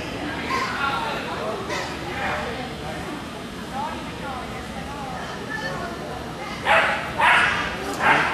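Several dog barks and yips ring out amid a busy background of voices, with a louder cluster of barks near the end.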